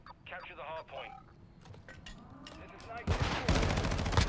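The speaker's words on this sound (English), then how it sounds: "I'm just shooting." Modern Warfare 2 gunfire with a Tempus Razorback rifle, a burst of rapid shots and then a sustained dense volley near the end, preceded by game chatter and a voice.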